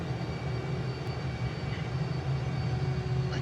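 A Su-57 Felon jet taxis at an airport in Antigua, its engines giving a steady, moderately loud whine and low rumble throughout, with no voices.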